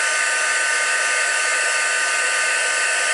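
Heat embossing tool for stamped card making, blowing continuously at close range: a steady, loud, high-pitched fan whoosh with no breaks and no talking.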